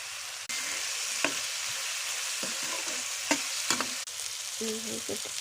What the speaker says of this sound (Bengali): লাড়াচাড়া দিয়ে একটু কষাই নিয়ে পেস্ট একটু ভাজা ভাজা করুন। চিংড়ি মাছ দিলাম